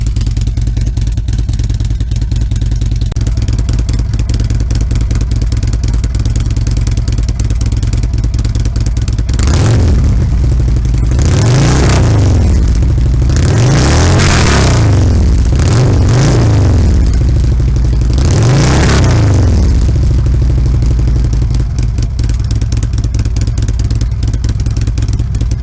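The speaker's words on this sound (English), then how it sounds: "I'm gonna rev the bike for you." A 2014 Harley-Davidson Ultra idles with a loud, lumpy rumble, then its engine is revved in several sharp bursts, each swelling and falling back, before settling back to a steady idle.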